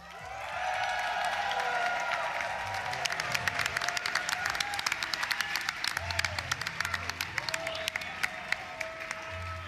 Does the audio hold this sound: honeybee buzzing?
no